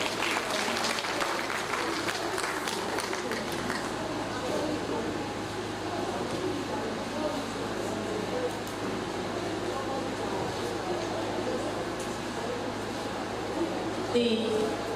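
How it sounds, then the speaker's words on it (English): Sustained audience applause at a University of Abuja Women Association ceremony, a steady even patter of many hands that holds for the whole stretch at moderate distance. "Please clap and appreciate her."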